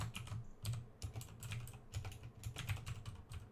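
An email address typed on a computer keyboard, quick close clicking keystrokes in an irregular but continuous patter, faint and without talk.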